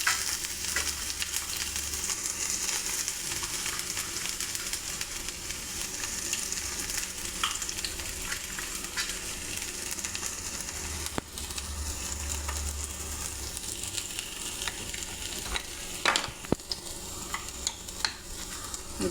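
Ginger and garlic sautéing in a pan, with a constant close sizzle under repeated scraping of a spoon as the mixture is stirred, without any voices.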